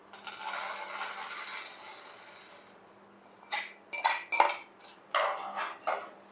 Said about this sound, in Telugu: గుమ్మడి గింజలు వేపించి పక్కన పెట్టాను కదా అవి వేసేసుకో